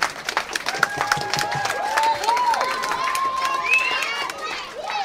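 Young audience on Nantucket claps and cheers to welcome a rapper, a lively mix of clapping with whoops and high shouts rising over the noise, fairly close and continuous.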